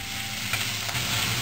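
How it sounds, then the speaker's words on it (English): Spareribs and vegetables stir-fry in a hot pan, giving a steady close sizzle with brief scraping stirs, alone without voices. "It's a stir fry."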